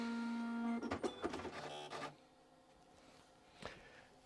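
A 1987 Apple ImageWriter II dot matrix printer whirs, then rattles through a burst of rapid mechanical printing clatter, followed by a quieter pause and one more short clack, close and alone.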